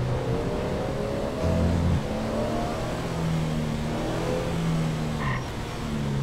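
A car engine in GTA 5 hums and revs while driving, a steady low drone with rising and falling pitch sweeps as the vehicle accelerates and shifts, heard alone at moderate loudness.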